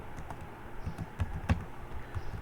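Light, irregular clicks of typing on a computer keyboard, a handful of soft keystrokes spaced unevenly, heard close and quiet with no talking.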